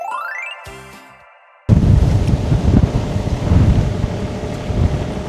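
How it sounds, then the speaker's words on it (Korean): Strong gusts buffet the microphone at an outdoor excavator worksite during waste loading, a loud continuous low roar starting abruptly after a brief quieter stretch, with no talking. "오늘 바람이 심상치가 않아요."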